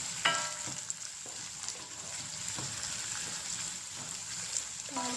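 Onions fry in a pan for a chicken and spinach curry, a soft continuous sizzle with a few faint utensil clinks and a brief clatter at the start.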